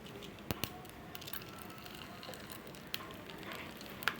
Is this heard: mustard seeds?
yes